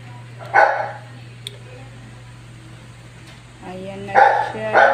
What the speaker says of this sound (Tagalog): Nag-ingay yung aking aso.